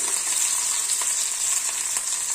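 Curry leaves and small onions sizzle in hot oil for a brinjal curry, a steady close crackle with no voices and faint pops scattered through it.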